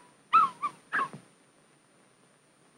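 A young puppy gives a few short, soft whimpers close by, three quick whines in a row, then quiet.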